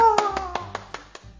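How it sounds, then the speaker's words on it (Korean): Children clap their hands in an elementary classroom, six evenly spaced claps in a steady beat, close and moderately loud over faint musical tones. "이렇게 박수 치고 있죠?"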